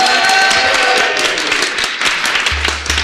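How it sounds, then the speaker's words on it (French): An audience at a podcast event applauds with a dense, lively patter of clapping close by that continues steadily, with brief low thumps near the end. "On peut les applaudir."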